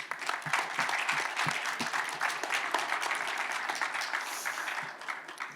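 A conference audience at a tech-startup event gives sustained applause, a broad, even roar of many hands clapping that holds for several seconds before easing slightly.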